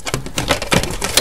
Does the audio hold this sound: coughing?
no